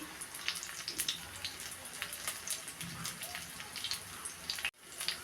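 Lentil and small shrimp fritters fry in hot oil with a steady, dense sizzle and crackle, sharp spitting pops scattered throughout, close and continuous with no voices.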